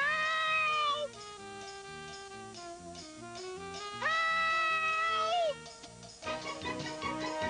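A kitten's high, drawn-out meows from a TV promo come in several rising and falling calls, clear and close, set against a musical backing.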